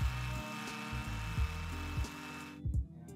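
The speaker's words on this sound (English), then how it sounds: "used the hammer setting on my drill to make the holes" A hammer drill grinds into brick in a steady buzzing whir, the pitch stepping as pressure shifts, then cutting off near the end.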